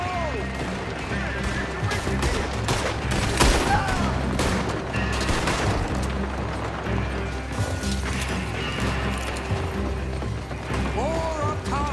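Gunfire in Red Dead Redemption 2 during a shootout, with repeated sharp shots and clattering impacts at an irregular pace over a constant mechanical background.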